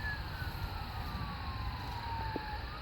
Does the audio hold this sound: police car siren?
yes